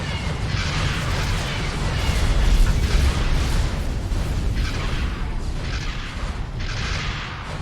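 Missile explosions in X4 with a Star Wars mod, during a Raider-class ship battle: a continuous, loud rumble of booms with repeated swelling blasts every second or so, dense and layered, with a voice speaking faintly underneath.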